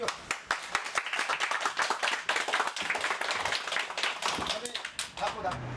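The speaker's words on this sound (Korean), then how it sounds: "자, 박수." Volunteers gathered for training at a Korean police patrol post break into a round of hand clapping, a close, busy patter of many claps that carries on steadily throughout.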